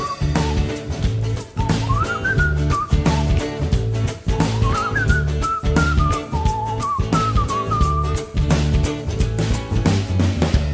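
A melody whistled over a steady instrumental backing, the whistled line rising and falling in phrases across the whole stretch.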